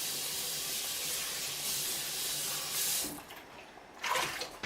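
Tap water running hard into a mixing bowl during rinsing, a steady loud splashing hiss that cuts off abruptly, followed by a short burst of water and dripping.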